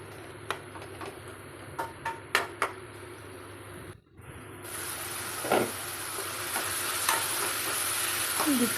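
Salt and turmeric are stirred into chicken in a pan for gongura chicken curry, giving soft scrapes and clicks over a steady close sizzle that grows louder and hissier toward the end.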